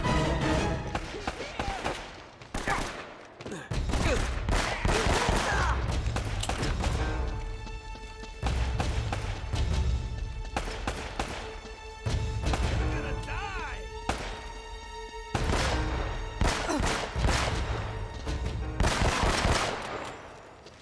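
Gunfire in Uncharted: Drake's Fortune, with repeated bursts of shots and thuds set against loud game music, while a player talks now and then.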